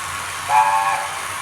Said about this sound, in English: let's give her a whistle